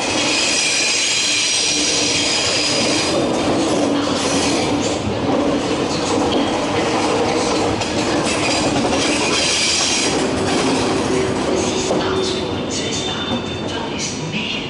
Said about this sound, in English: This train's about to leave for Strasbourg.